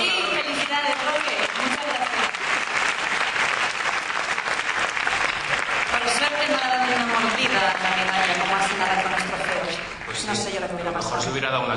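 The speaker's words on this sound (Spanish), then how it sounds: "Un aplauso" Audience applause at a film awards gala of the Círculo de Escritores Cinematográficos, dense sustained clapping filling the room for several seconds, loud and close, dipping briefly near the end while voices murmur underneath.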